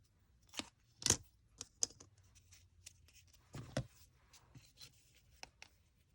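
Scissors snip through paper while a rose petal template is cut, heard as a few sharp close clips and paper rustles spaced irregularly in a quiet room.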